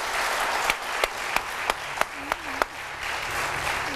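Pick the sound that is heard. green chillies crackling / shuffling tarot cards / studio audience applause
studio audience applause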